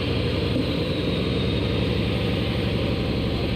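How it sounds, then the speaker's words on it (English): A rough car engine in a video game idles and burbles unevenly like a tractor, loud and close, running steadily for a few seconds before abruptly cutting off. "If we're going to drive this car, it needs a working engine. And right now, mine sounds like a John Deere tractor."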